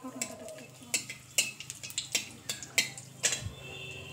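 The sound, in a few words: stirring cumin, bay leaf and dried chilli in pan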